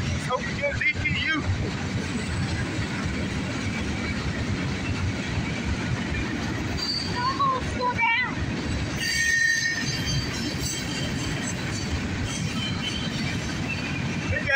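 A northbound CSX mixed freight train rolls past, a continuous loud rumble of wagons with wheel squeal and clanking, and voices talking now and then over it.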